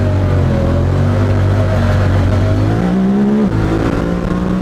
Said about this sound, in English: right here I can downshift the gear manually to tell it what I want to do